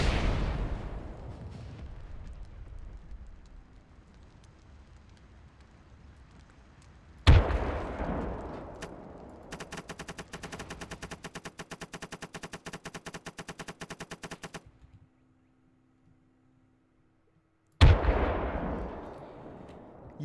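Tank 120mm cannon firing in the Call To Arms game with a French armoured division mod: a sharp booming blast with long decaying tail, a rapid machine-gun burst, then another heavy cannon shot, loud and close.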